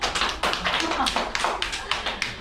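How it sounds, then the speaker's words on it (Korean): A short burst of clapping from a small group at an office yoga class, steady patter of hands lasting a couple of seconds. "박수 한번."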